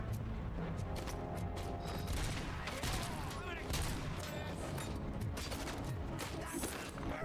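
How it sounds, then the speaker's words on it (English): Continuous gunfire from the player's weapon in RoboCop: Rogue City rattles in dense, rapid volleys with clanking mechanical impacts, steady and busy under faint voices. "the gun in my hand that is blowing them to smithereens"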